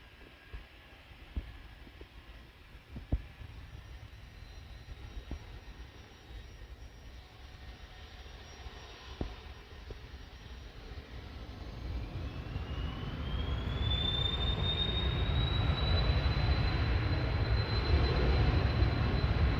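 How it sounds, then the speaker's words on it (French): Airplane taking off at Santiago de Compostela airport, heard from nearby outside: a low rumble that grows into a loud jet roar with a rising whine, over a few scattered knocks. "Allez, on va regarder l'avion décoller."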